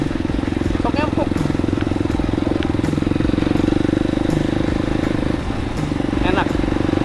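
A Kawasaki KLX 230 motorcycle engine runs with a steady low, throbbing drone and a constant rattly pulse, loud and close throughout. Someone speaks briefly over it now and then.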